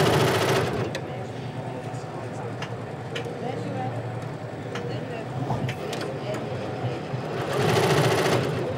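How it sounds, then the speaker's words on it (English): Embroidery machine stitching conductive thread onto fabric, a steady fast mechanical whir running throughout with people talking over it and a louder stretch near the end. "So we start the machine again."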